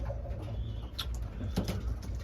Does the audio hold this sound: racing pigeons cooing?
yes